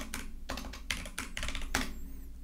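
Quick, close clatter of keys on a computer keyboard as a short npm install command is typed, about half a dozen crisp taps in uneven bursts, alone without talk.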